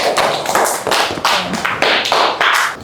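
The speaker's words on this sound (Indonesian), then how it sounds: "kita kasih tepuk tangan untuk kelompok 3" Classroom applause for a student group, a cluster of hand claps in irregular bursts with brief dips between, fairly close and loud with no voices.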